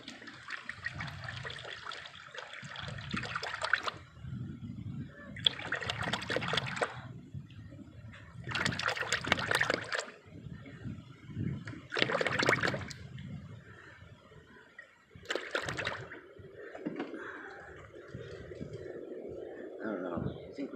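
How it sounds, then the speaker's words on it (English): Transmission fluid pouring from a gallon jug into a container during a transmission filter change, heard as a liquid glug and trickle in several bursts, separated by brief pauses. "now I'm going to take and pour half of this gallon out"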